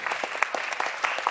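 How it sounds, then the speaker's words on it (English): Scattered claps from an audience at a dance program in a Queens high school auditorium, a thin spread of individual hand claps with a few sharper ones standing out, briefly. "Please have a round of applause for them."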